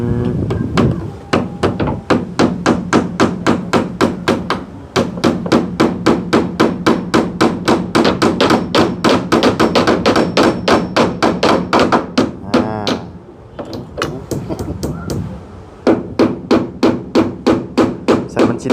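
Steady hammer blows drive nails into wooden wall boards while a house is being built, a loud close run of regular strikes with only short pauses between bursts.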